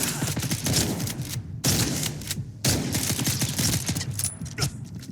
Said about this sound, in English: Why is this guy firing on me exactly?